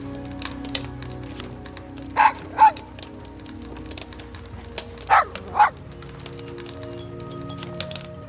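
Two pairs of sharp, mid-pitched barks from a dog in the Nightingale video game ring out a few seconds apart over a quiet in-game ambience.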